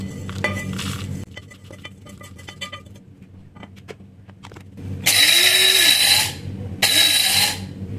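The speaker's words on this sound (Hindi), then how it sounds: "अब ये जो मसाला है इसको मैं ग्राइंडर में निकाल लूंगी" An electric grinder coarsely grinds dry-roasted spice masala in two loud, close bursts, the first about a second long and the second shorter, after a stretch of quiet clinking and handling.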